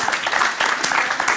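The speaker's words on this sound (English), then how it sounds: "An applause, please." Audience at a design and cultural-industries talk breaking into applause, a dense run of clapping from a small crowd, fairly close and steady for the whole moment.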